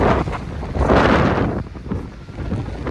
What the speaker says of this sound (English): Oh my god, the wind has not been like this when I left my place.